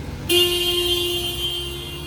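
The horn of a 2024 Porsche Cayenne gives one loud, close, sustained honk lasting about two seconds.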